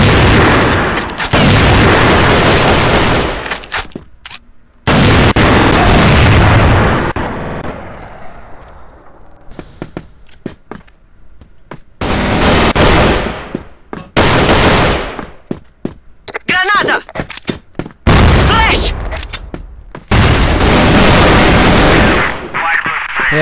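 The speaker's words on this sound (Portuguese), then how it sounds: "A bomba na área." Video game bomb explosions arrive as loud, abrupt blasts in separate bursts, mixed with rapid gunfire crackle and artillery-like booms, with near-silent gaps between volleys.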